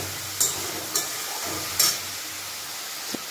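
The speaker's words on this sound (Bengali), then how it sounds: "তো আমি এভাবে নাড়তে থাকছি যতক্ষণ পর্যন্ত মশলাটা কষা হচ্ছে, এভাবে আমি নেড়ে যাচ্ছি।" Spice paste frying in a pot for goat curry, stirred in a few sharp scraping strokes over a steady close sizzle, with a brief tap near the end.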